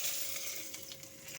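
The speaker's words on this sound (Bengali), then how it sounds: "তা প্রথমে দিয়ে দিচ্ছি চেরা কাঁচা লঙ্কা আর কালো জিরাটা ফোড়ন," Slit green chilies and black cumin tempering in hot leftover oil, a brief steady sizzle heard close and fairly quiet, ending in a sudden cutoff.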